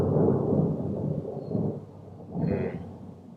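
Thunder heard indoors: a low, rolling rumble that swells and fades twice, fairly faint and muffled, with no talk over it.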